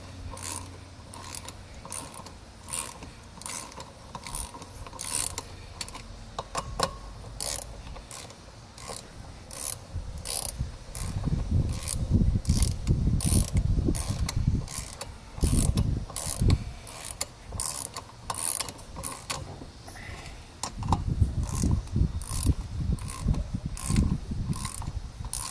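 A ratchet wrench clicks repeatedly as rear sprocket bolts on a Yamaha FJ-09 motorcycle are snugged in a crisscross pattern, a close, quiet run of rapid pawl clicks in bursts with light rubbing between.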